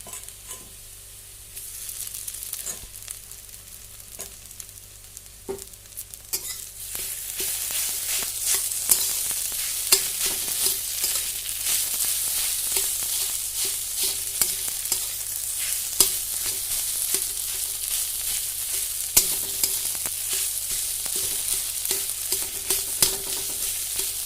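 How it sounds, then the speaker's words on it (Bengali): Potatoes go into a pan of softened, frying vegetables; quiet clicks and stirring scrapes give way to a louder, steady sizzle with frequent scraping stirs throughout. "সবজিগুলো আমার ভালো করে সিদ্ধ হয়ে গেছে ভাজা হয়ে গেছে এখন আমি এর মধ্যে আলুগুলো দিয়ে দিচ্ছি"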